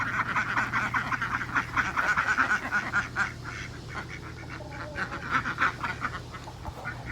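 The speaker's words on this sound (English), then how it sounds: "Here come the ducks. They're coming out." A group of ducks quacks continuously at close range, their calls rapid and overlapping throughout.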